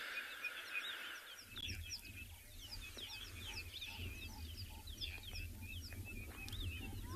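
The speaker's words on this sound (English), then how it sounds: "If you listen as well, you can just hear all the birds." Many birds call across the South African bush on a warming morning after rain, chirps, whistles and clucking notes overlapping at a distance in a lively, continuous chorus over a low steady hum.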